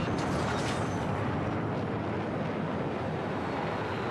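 An attack jet in Battlefield 6 gameplay roars past with a steady, broadband rush, continuous, with a windy, airy hiss and no voices.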